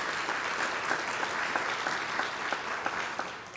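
A dinner audience at an Eternal Light Award event applauds, steady dense clapping from many hands heard at a moderate distance, holding evenly with no voices over it.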